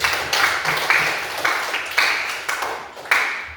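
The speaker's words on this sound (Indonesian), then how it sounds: "Beri aplaus untuk semua" Students in a classroom during a teacher-training lesson clap together in a steady unison rhythm, about two claps a second, close and moderately loud, with no talking over it.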